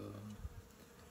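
A faint, low hum of honeybees buzzing at a hive, steady and brief, with a soft bump partway through.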